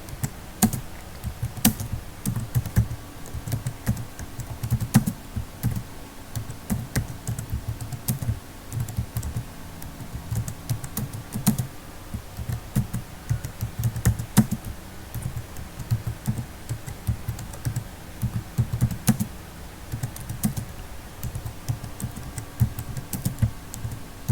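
Typing on a computer keyboard while entering a LinkedIn profile tagline, a steady stream of close, quick key clicks with occasional louder strokes, continuing throughout with no voices.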